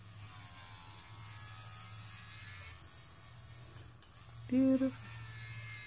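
An electric nail drill run by a foot pedal hums with a low, steady motor drone and a faint whine, and a voice speaks briefly near the end.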